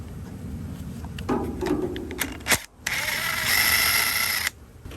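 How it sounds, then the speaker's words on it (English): A 10mm socket ratchet works a bolt loose in the engine bay of a 2008–2013 Nissan Rogue, with clicks and turning sounds, a short knock, then a longer whirring buzz close by. "Remove this bolt right here with a 10mm socket holding the AC lane."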